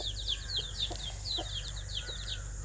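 Chickens cluck and chirp repeatedly close by, a busy run of short calls over a low steady background hum.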